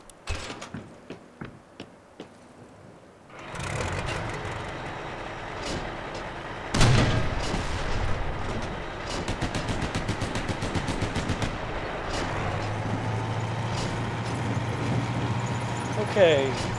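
Vehicle cannon and machine gun fire in the video game Mercenaries 2: rapid bursts of automatic fire and heavy booms over a rumbling engine, loud and sustained, with a voice talking over parts of it.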